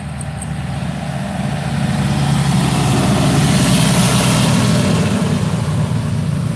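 A loud, heavy engine rumbles steadily as a tractor passes close by, its low drone building and holding throughout.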